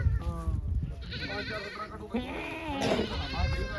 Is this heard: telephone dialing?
no